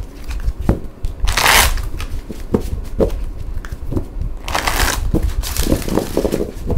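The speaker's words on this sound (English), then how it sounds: "some decks are easier to shuffle than others, and this is one of the harder decks to shuffle" A deck of cards being shuffled repeatedly, with bursts of riffling and crisp rustling, close by and fairly loud.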